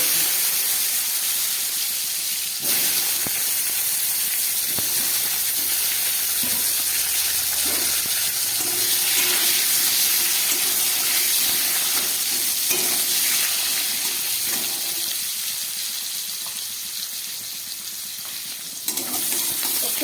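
Kohlrabi pieces fry in oil left over from frying fish, tempered with black cumin seeds. A continuous loud hissing sizzle runs throughout, broken by a few scraping stirs and utensil taps, with no speech.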